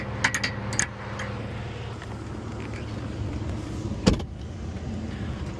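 An old Jeep's engine drones steadily as it pulls a stuck car out of soft sugar sand, a constant low rumble with a couple of brief sharp knocks and clunks.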